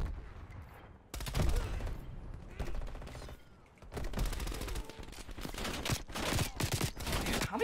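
Rapid automatic gunfire from Call of Duty: Black Ops Cold War multiplayer, with an MP5 and AK in play, crackling in loud bursts and fusillades that start after a quiet opening second and keep coming with short gaps.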